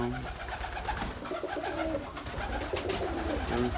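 Pigeons coo in a loft holding dozens of birds, babies, mothers and youngsters, with soft repeated rolling coos overlapping close by and no talk.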